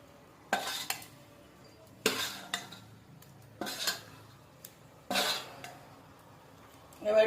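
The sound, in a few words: fish pieces added to pan for Bengali fish curry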